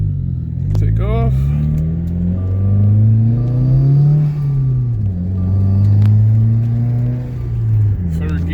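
A drift car pulls away from the start line at a track drift event, its engine rumbling loud and close with rising revs and gear changes, steady under the exhaust drone throughout.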